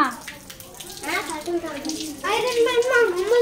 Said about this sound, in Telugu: ముందు ట్యాప్ ఆఫ్ చేయి.